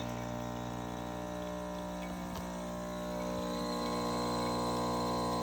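A steady mechanical pump hum from an espresso machine pumping coffee, liquid flowing, a continuous buzzing drone that holds constant for several seconds.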